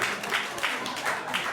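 A studio comedy audience claps briefly and steadily, a dense patter of many hands at moderate volume with no voices over it.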